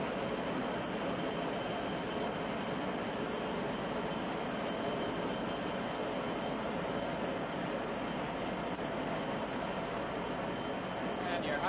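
Airliner engines during the takeoff roll, heard from inside the cabin: a steady, broad, muffled roar that holds constant throughout with no distinct events.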